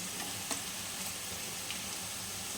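Fig fritters fry in oil, a faint, even crackling sizzle with a few soft clicks, no voices over it.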